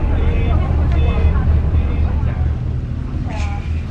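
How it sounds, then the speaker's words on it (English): A barge motors out across Lan Ha Bay toward a larger cruise boat, its low engine drone steady and close beneath chatter from passengers in life vests. "that is how we get out to our main boat by barge"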